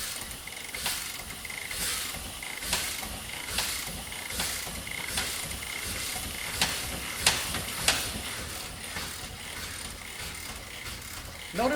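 A Corliss steam engine at a steam show runs warm and comes up to speed, giving a steady, even stream of soft mechanical ticks and puffs with a low hiss underneath, plus a few sharper clicks.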